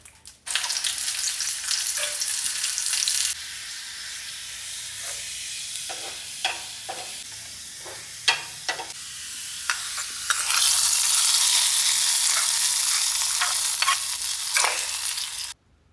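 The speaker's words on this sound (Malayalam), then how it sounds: "ഇനിയിപ്പോൾ നമുക്ക് വെളിച്ചെണ്ണ വറവിടാൻ വേണ്ടിയിട്ട്" Coconut oil sizzles hard for a tempering in a pan, a loud continuous hiss that eases into quieter crackling with a run of scraping stirs, then surges loud again.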